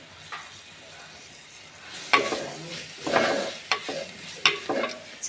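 Chopped tomato sautéed in a pan, a faint sizzle that grows after a quiet start, with several scraping stirs and clicks of a spoon against the pan.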